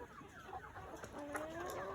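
Chickens on a farm cluck and murmur close by, with a few rising, drawn-out calls layered over soft scratchy background noise.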